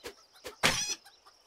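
Chicken clucking in the farm-and-tavern game Ale & Tale Tavern: a couple of short clucks followed by a louder, longer squawk, then quieter clucks trailing off.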